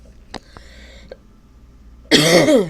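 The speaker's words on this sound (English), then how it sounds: "And cough again" A few short, sharp coughs close by in a quiet room, followed by a louder, rougher burst of coughing at the end.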